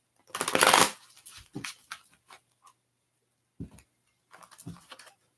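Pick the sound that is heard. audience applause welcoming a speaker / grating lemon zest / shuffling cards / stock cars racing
shuffling cards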